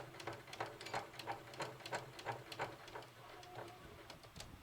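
A sewing machine back stitches across a stress point on a tote bag, a quiet rapid run of needle thumps in a steady mechanical rhythm, close with no talking.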